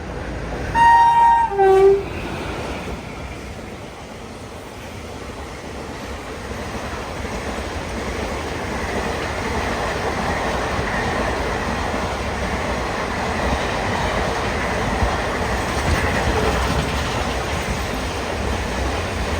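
Mangaluru–Thiruvananthapuram Express passing Manjeshwar railway station, opening with a loud train horn blast, then a long steady rumble and rattle of coaches rolling past at speed.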